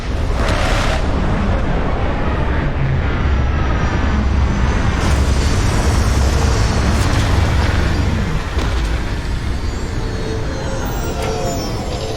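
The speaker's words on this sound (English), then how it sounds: "Captain, landing procedure initiated." A spacecraft sets down in a heavy, continuous roar of engines and rumbling thrust that stays loud and close for the whole stretch, easing slightly near the end, with no voices.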